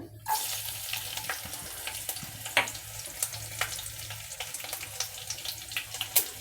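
Mustard seeds crackle in hot oil in a pan while cooking a carrot, pea and potato curry, a soft steady sizzle scattered with sharp little pops, close and quiet.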